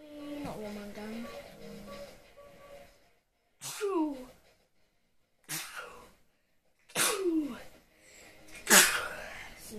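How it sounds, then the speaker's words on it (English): A person sneezes four times in a row, each burst sharp and loud, with short quiet gaps between them, after some brief voiced sounds at the start. "Sneeze."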